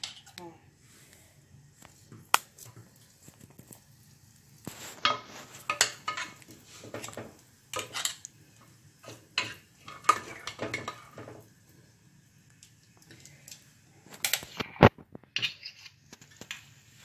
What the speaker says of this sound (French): Je vais vous montrer comment on fait avec la cuillère.